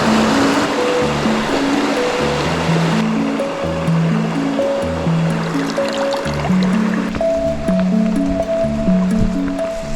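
A river stream flows steadily and loudly for the whole stretch, its broadband rush running beneath a repeating melodic tune from music or a game, with no voices.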